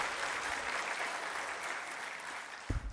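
A church congregation at a Methodist revival service applauds steadily to welcome the guest pastor, a dense, even wash of many hands clapping for about three seconds, with a low thump near the end.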